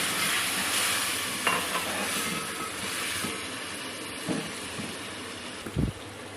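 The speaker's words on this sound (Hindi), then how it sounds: "अब हम इनकी भुनाई करेंगे, मसाले को भून लेंगे अच्छी तरह से।" Spice masala sizzles and fries in a pan as it is stirred, a steady soft crackle broken by a few scraping knocks from the spoon, quiet and close with no talking.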